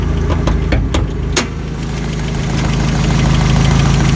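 A 1985 Toyota pickup engine runs steadily during a test drive, a loud, close mechanical drone with a few sharp knocks early on before it settles into an even hum.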